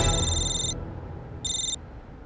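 A telephone rings in a police crime drama: two bright, electronic ring bursts separated by a short pause, heard over a low, steady room background with no talking.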